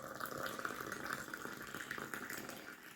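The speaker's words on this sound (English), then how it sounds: "Now, first things first, we've got to pour some tea." Tea poured from a pot into a cup, a steady close trickle of liquid splashing for the whole stretch with no talk.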